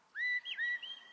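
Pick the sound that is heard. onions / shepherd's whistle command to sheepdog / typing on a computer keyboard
shepherd's whistle command to sheepdog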